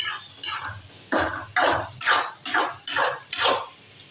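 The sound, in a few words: egg being stirred continuously in a kadhai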